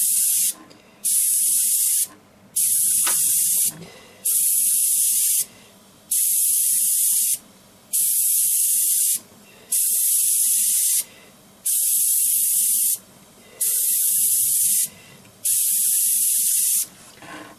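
A VEDA WD 180 dual action airbrush sprays in about ten even hissing bursts of roughly a second each, separated by short pauses, close and loud with no talking.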